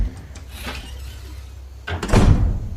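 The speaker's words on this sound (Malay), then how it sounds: "terus pintu bilik dia ni dihempas" A bedroom door slams shut with a loud, close thud near the end, after a stretch of quiet room tone with a few faint knocks.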